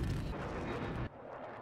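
Rapid, heavy A-10 Warthog cannon fire in the video game Battlefield 4, a dense roaring burst that is loud and close, then drops abruptly to a quieter rumbling tail.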